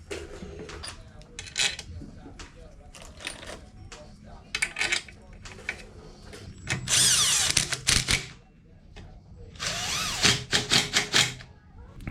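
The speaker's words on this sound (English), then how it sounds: "So this is one of my spare K20 oil pumps that I kind of collected for, you know, future builds. And we're just going to bolt it on for right now." Power tool driving bolts to fasten a K20 oil pump onto an engine, several short buzzing runs and longer bursts close by, mixed with metallic clinks of parts and tools.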